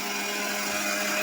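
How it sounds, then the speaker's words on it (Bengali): An electric mixer grinder whirs steadily at high speed while blending tomatoes into a paste, a loud, even motor drone that continues without a break and has no voices over it. "আমি মিক্সিতে সব জিনিস বাটবো"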